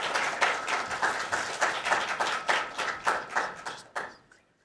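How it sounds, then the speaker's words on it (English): An audience gives a warm round of applause for guest speakers, a quick run of hand claps in rhythmic bursts that thin out and stop after about four seconds. "please feel free to come on up and give our guests a warm round of applause"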